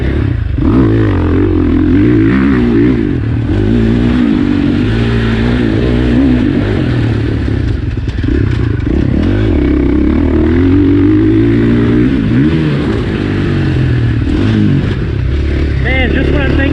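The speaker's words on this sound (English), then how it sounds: "I'm going to get 2 more laps on the 450." A KTM 450SXF four-stroke motocross bike runs laps at Crow Canyon, its engine droning and revving up and down continuously through the whole stretch, with loud clattering and shifting pitch and no pauses.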